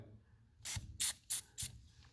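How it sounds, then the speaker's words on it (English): Silicone spray aimed at the guide wheel bearings of a garage door, four short sharp hissing bursts in quick succession, close and fairly loud, with quiet gaps between. "I've got my silicone spray here"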